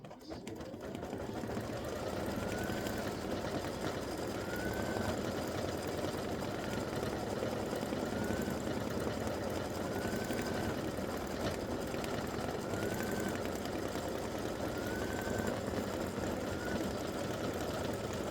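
An embroidery machine stitches steadily with black thread around a helmet in a Thanksgiving turkey running back design, a continuous close mechanical whir with a faint rhythmic pulse running unbroken throughout.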